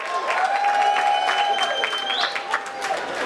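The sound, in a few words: audience applause at reception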